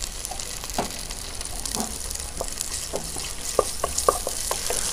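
Garlic, green chili and curry leaves frying in hot oil give a steady, close sizzle dotted with scattered sharp crackles and pops throughout.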